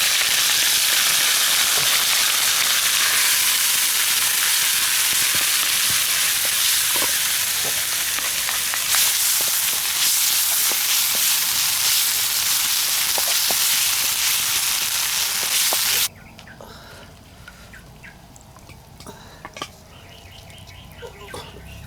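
Hot oil sizzling loudly and steadily while wild-foraged greens fry in a village cooking setup, a dense crackling hiss that abruptly drops to a much quieter simmer, with a voice talking over it.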